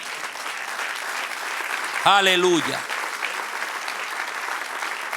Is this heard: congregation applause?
yes